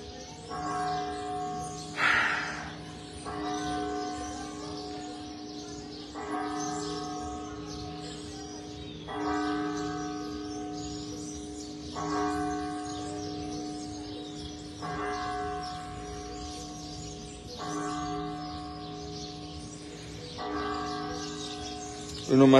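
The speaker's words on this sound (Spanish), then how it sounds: "Uno más que chulada de campanadas." Church bells ring out repeatedly in a slow, steady pattern, their sustained tones overlapping and resonating, with faint birds chirping in the background.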